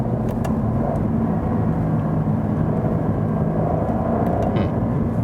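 A Cadillac ATS-V sports sedan with a 3.6-litre V6 downshifts from third to second gear, a loud, close, steady engine roar that holds throughout with no talking.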